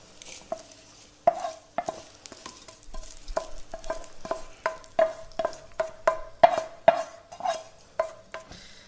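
Lentils and whole red chillies dry roasting in a pan, stirred with a utensil that scrapes and taps the metal in steady irregular strokes, close and clear with no talk.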